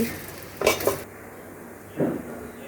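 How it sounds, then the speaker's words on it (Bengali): Rice is stirred in a pot with fried onions for biryani, a spoon scraping and clanking against metal in a few short bursts over a faint sizzle. "পেঁয়াজগুলো ভাজা হয়ে গেছে, এবার চাল দিয়ে দিচ্ছি।"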